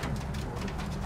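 Pigeon cooing inside an abandoned upper floor of a derelict government building, a soft low murmur lasting about a second over steady background noise.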